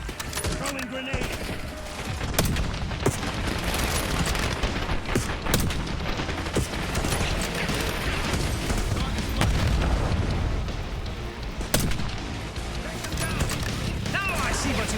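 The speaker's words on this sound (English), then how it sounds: "Throwing grenade." A thrown grenade explodes amid heavy gunfire in Call of Duty: Black Ops 6, loud continuous battle noise packed with rapid shots, booms and sharp cracks, while voices speak over the fighting.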